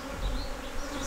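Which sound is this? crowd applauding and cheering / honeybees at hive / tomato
honeybees at hive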